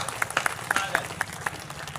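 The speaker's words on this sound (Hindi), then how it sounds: "एक बार ताली बजाइए, मैं शुरू करता हूं।" Scattered audience clapping at a Hindi comic poetry gathering in Lucknow, a sparse run of sharp individual claps, fairly close, with a murmur of voices beneath.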